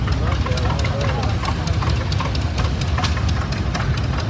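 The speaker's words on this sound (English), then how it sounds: "That's an LP gas motor tractor." An LP gas-powered vintage tractor engine runs steadily at a parade, a low continuous rumble close by with someone talking over it and crowd noise around.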